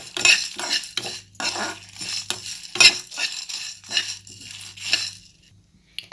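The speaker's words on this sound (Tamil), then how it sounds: "ஜீரகம் கொஞ்சம் கலர் சேஞ்ச் ஆகிற அளவுக்கு லைட்டாக ரோஸ்ட் பண்ணிக்கலாம்" Metal spoon scraping and clinking against a pan in repeated strokes while dry roasting cumin, a steady stirring rhythm close by with no voices.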